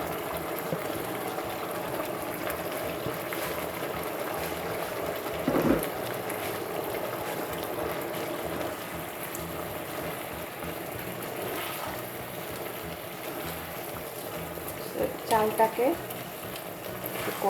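Washed rice being sautéed in a pot for Bangladeshi restaurant-style chicken pulao gives a steady close sizzling hiss with occasional stirring scrapes and clinks, while a voice talks faintly.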